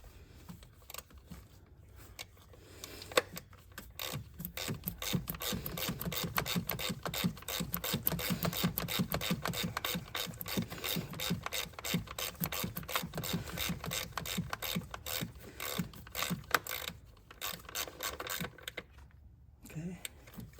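A ratchet wrench with an Allen socket tightens valve cover bolts on a 2006 Honda Odyssey 3.5L V6, heard as a long run of rapid, close clicking that pauses briefly now and then and continues for nearly twenty seconds.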